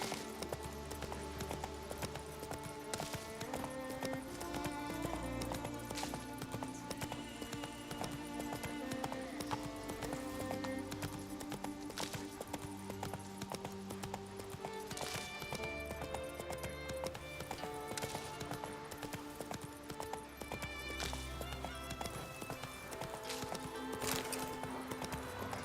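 Roach, a horse in The Witcher 3, gallops with a steady, rapid clip-clop of hooves that runs the whole time, set over a continuous music bed, with a brief whinny standing out.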